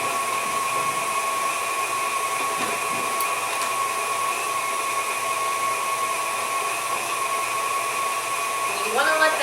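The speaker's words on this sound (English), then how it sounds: "I'm creaming my sugar and my butter on the number 4 setting," A stand mixer on its medium number 4 setting creams butter and brown sugar into cookie dough, giving a constant whirring motor hum with a steady pitch throughout. The hum stays moderately loud and close, and nobody speaks over it.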